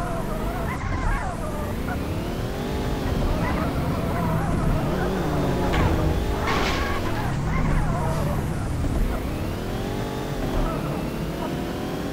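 Car engine in a game, revving and shifting pitch under continuous music, with rising and falling whines throughout.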